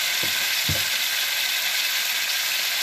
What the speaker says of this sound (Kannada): ಈಗ ನಾನು ಹೆಚ್ಚಿಟ್ಕೊಂಡಿರೋಂಥ ಅಷ್ಟು ಟೊಮೊಟೊನ ಹಾಕ್ತಾ ಇದ್ದೀನಿ